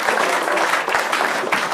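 Brief burst of dense audience clapping during a comedy escape-room show, a continuous crowd of hands applauding together, fairly loud and close.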